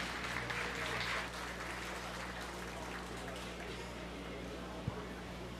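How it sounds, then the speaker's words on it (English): A crowd at a 4-H beef cattle show claps in a steady patter of applause that eases slightly after the first second and continues evenly, with murmuring voices underneath. "Let's give her a round of applause."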